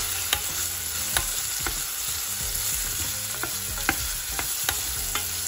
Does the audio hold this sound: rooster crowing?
no